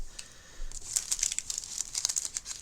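The sticky fold-over flap of a paper craft pack is opened and handled, giving close crinkling and rustling with small tearing crackles throughout, and no voices.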